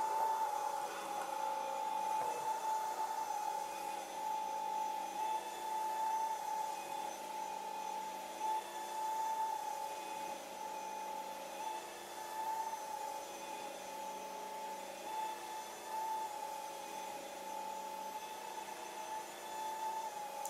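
A Neakasa PowerScrub 2 floor cleaner runs with its rotating brush, giving off a steady, even motor whine with a constant hum from start to finish.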